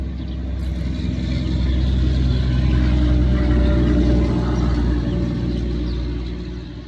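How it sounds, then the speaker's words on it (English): Loud trucks rumble past near a flower farm, a steady low engine roar that swells to a peak midway and slowly fades, heard up close with no talking. "loud trucks"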